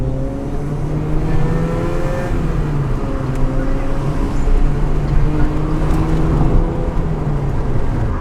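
Honda Integra DC2 with a VTEC engine pulling hard, its steady drone rising in pitch as it revs up toward 6,000–7,000 rpm, loud and continuous from inside the car.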